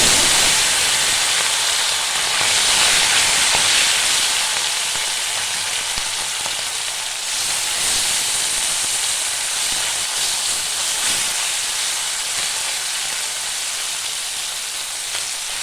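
Puti fish fry in hot oil with a loud, dense, continuous sizzle and hiss close by, swelling slightly then easing, with faint clinks of stirring and no talking.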